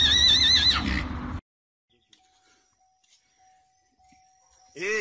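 A horse gives a loud, close whinny lasting about a second, followed by near silence with faint background ticks, then another burst of neighing begins at the end.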